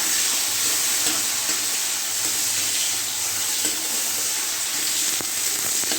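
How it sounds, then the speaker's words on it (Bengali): Tomatoes and green chillies frying in hot oil while being stirred, giving a steady, loud, dense sizzle throughout with faint scraping and no talking. "টমেটো, কাঁচা লঙ্কা দিয়ে দিলাম। এবার আমি নাড়তে থাকছি।"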